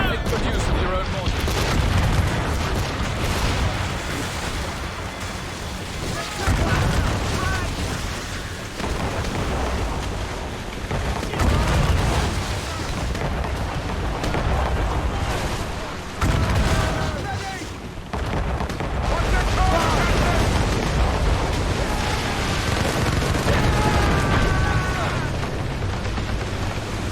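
Heavy booming naval mortar fire and rumbling explosions from ships in Assassin's Creed Rogue, a dense loud barrage with recurring deep blasts under game dialogue.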